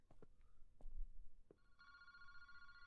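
A phone booth telephone rings in the Paranormasight video game, a steady electronic bell tone starting partway through after a few faint soft knocks.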